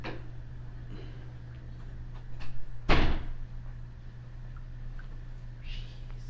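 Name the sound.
things knocked over outside, spilling a grill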